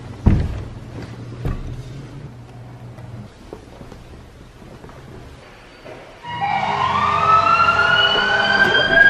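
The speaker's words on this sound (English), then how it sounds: "you play an ambulance noise" An ambulance siren sound effect, played as a prank, starts abruptly partway through and wails loudly and steadily to the end, after a stretch of quiet room noise with a few knocks.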